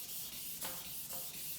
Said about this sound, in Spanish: Y empezamos a lijar.